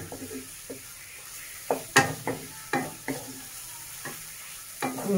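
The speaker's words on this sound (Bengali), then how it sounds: "যত টাইম দেবেন পেঁয়াজটা তত ভালোভাবে কষবে" Onions sizzle in a pan for a Bengali bhola fish curry while being stirred, a quiet steady frying hiss broken by a series of sharp scraping and tapping strokes from the spoon, with no speech.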